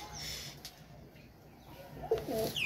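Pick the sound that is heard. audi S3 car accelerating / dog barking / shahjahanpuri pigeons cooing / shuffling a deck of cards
shahjahanpuri pigeons cooing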